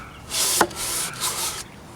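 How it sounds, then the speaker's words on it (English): Three strokes of sandpaper rubbed by hand across a finished wooden step stool, a dry rasping hiss with short pauses between passes. "I find hand sanding is the most effective"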